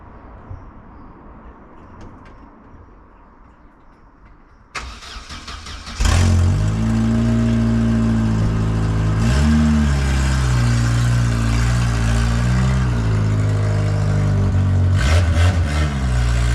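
Car engine starting after sitting unused for a long time: quiet at first, then cranking that catches into a loud, close running engine, revved and then settling into a steady idle.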